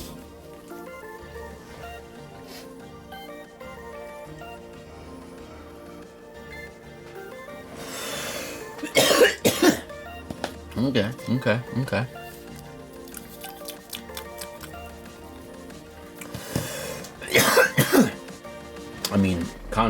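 Quiet background sounds give way to a few bouts of coughing and throat clearing while tasting a drink, close and fairly loud, with a short spoken word in between.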